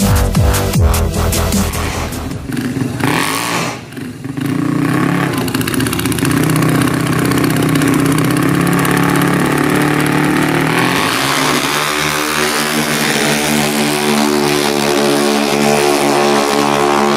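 Vespa Matic scooter engine being throttled, a loud close motor revving and roaring with a brief dip, then settling into a steady rough idle-like drone, with no talking.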